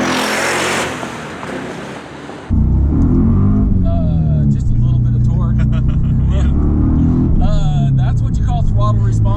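A loud LS-swapped Porsche 911 engine revs hard while driving, a steady throaty roar with rising pitch sweeps, after a brief quieter opening; voices talk over it.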